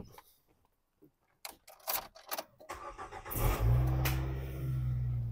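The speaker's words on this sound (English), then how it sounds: "i'm going to start the car" After a few quiet clicks and rustles, a Nissan Note engine cranks and catches, then settles into a steady, close idle hum.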